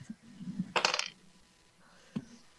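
Dice rolled during a Dungeons & Dragons 5e tabletop session, a brief clattering tumble on a hard surface followed by a single faint knock as they settle.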